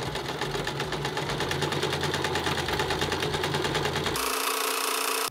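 Sewing machine stitching fabric for a skirt, running in a steady rapid mechanical chatter for about four seconds before it abruptly stops, close and loud with no talking.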